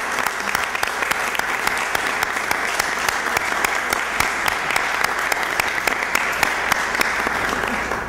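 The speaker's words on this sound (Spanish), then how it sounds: "¿Qué tal si comenzamos entonces dándoles un fuerte aplauso a todos los protagonistas de esta?" Sustained audience applause at a citizens' security committee meeting, many hands clapping steadily and densely throughout with no talk over it.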